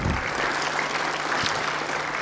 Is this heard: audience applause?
yes